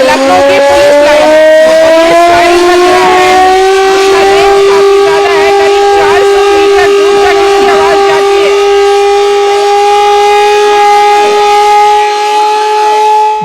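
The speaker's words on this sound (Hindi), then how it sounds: "ये सायरन बजा है" Civil defense air raid siren sounding at a police lines ground in Lucknow during preparations for a mock drill, a loud, close, sustained wailing tone that holds steady and slowly rises in pitch, with faint voices underneath.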